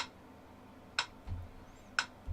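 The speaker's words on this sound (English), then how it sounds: "here right now is just one single click" Sharp metronome clicks tick at a steady one-per-second pulse, quiet and isolated, with faint low thumps between them.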